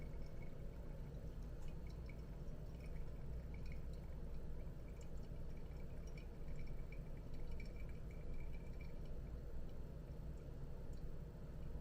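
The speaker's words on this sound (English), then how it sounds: "I'm constantly pouring on the sides just to bring the grinds further down in the brew" Water poured in a steady stream over Murang'a AA Kenyan coffee grounds in a Hario V60 dripper, a continuous close trickle and splash with faint drips, lasting throughout with no speech.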